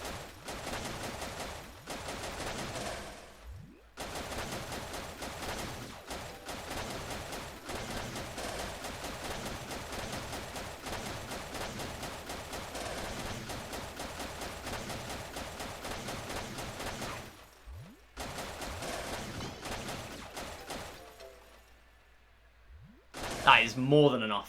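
Rapid bursts of gunfire from the Wii Play shooting range game, a steady stream of sharp shots with brief pauses, ending in a few louder hits.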